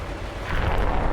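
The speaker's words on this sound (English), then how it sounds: "The missile jettisons its first stage solid rocket motor and is now powered by its second stage internal motor, which is a liquid-fueled ramjet." A BrahMos missile in the DCS combat simulator launches, its solid rocket booster giving way to a liquid-fueled ramjet: a dense, rumbling roar that swells and grows louder partway through, broad and continuous with no talk.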